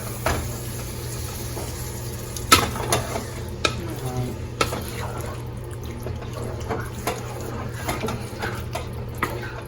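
Ravioli in sauce stirred in a pan over low heat, with soft scraping and a faint steady simmer, a few sharp spoon knocks against the pan.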